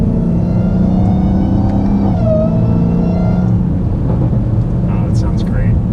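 A Dodge Hellcat with a loud, continuous rumbling engine that surges as it revs, heard close from inside the car, with people talking under the noise.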